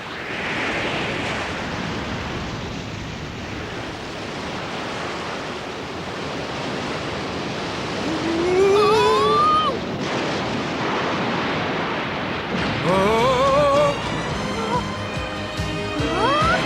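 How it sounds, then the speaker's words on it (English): Stormy sea with waves and wind surging around a small boat, a steady roar of surf and gusting wind throughout, joined later by whistling tones and a few brief voices. "There's a storm coming! Looks like a pretty bad one, too!"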